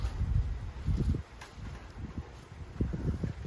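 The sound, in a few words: north wind blowing through garden tomato plants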